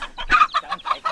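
A chicken clucks in rapid, close, loud bursts, about six short squawking notes in quick succession, heard from a film scene pitting a chicken against a cobra.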